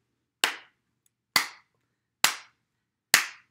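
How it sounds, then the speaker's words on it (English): Four single hand claps, evenly spaced and crisp, each sharp and close with silence between them, as a storytime leader claps along to start a song. "Can you clap with me?"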